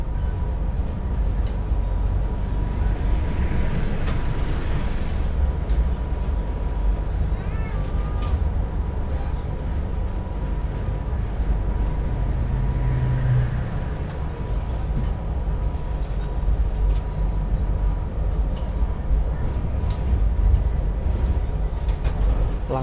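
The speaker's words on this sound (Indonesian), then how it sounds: "Langsung berpapasan dengan kereta api Bengawan dari stasiun Pasar Senen tujuan akhir stasiun Purwosari" Interior of the KA Progo executive passenger train in Indonesia as it passes the Bengawan train, a continuous loud rumbling roll with faint clatter and a brief whooshing swell from the passing train.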